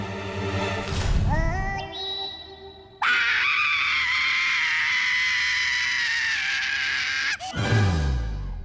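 A person screams in a Baalveer television scene, a long, loud, strained cry that wavers and rises, then holds a sustained piercing wail for several seconds before cutting off abruptly, with no talking.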